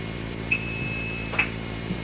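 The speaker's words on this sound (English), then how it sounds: "He presses the 2600 Hz key" A steady, thin single-pitch 2600 Hz blue box phreaking tone hums continuously at moderate level, broken only by two faint clicks partway through.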